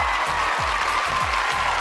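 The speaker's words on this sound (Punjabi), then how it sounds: "ਫਿਰ ਆਜਾ ਲਾਓ ਮੇਰੇ ਪੁੱਤ ਲਈ ਤਾੜੀਆਂ" A crowd applauds a child at a school event, a dense, even wash of clapping held at a steady level with soft low thumps pulsing underneath.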